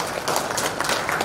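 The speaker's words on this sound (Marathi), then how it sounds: "राशीसाठी एकदा जोरदार टाळ्या." A burst of audience applause at a children's poetry gathering, dense steady clapping from a crowd heard for just over a second.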